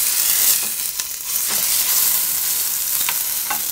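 An eye of round roast searing fat side down in a hot pan, a steady close broadband sizzle with brief clicks of tongs, no talk.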